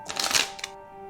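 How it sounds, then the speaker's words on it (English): Playing cards are shuffled at close range: a quick riffling burst of papery flutters, then a short final snap, followed by near quiet with a faint steady hum behind it. "Maybe shuffle again, Dr. Powell."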